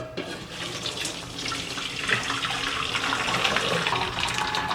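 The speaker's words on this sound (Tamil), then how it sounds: "இப்போது அதை ஆஃப் பண்ணிவிட்டு இதை அப்படியே வடிச்சிட்றோங்க" Boiled veg noodles being drained, with water pouring out in a steady, close rushing stream for about five seconds that grows slightly louder partway through.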